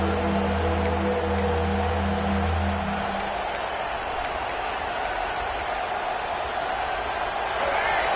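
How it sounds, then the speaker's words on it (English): Stadium crowd roar in an American football video game as fans urge on their defense, a sustained broad wash of noise that swells after a low tonal passage, with commentary running over it. "Listen to this crowd just shaking the girders of this place, trying to help their defense"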